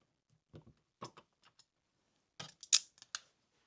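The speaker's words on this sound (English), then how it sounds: "with a standard screwdriver, we're just going to take off the faceplate." A standard screwdriver takes the faceplate off an old wall outlet, giving a few faint, close clicks and scrapes of metal on plastic in short bursts with quiet gaps between them.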